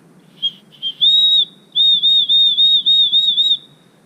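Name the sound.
safety whistle blown while hiking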